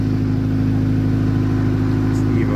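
A Mitsubishi Evo rally car has just returned at the end of the Ridge Rally, and its engine runs with a steady, loud, droning hum close by. Voices are faintly present over it.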